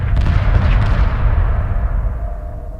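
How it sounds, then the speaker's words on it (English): Missile barrage in the space strategy game Homeworld Remastered, a dense, continuous roar of rumbling blasts and crackling impacts that stays loud throughout and thins slightly toward the end. "Watch out for that last barrage of missiles."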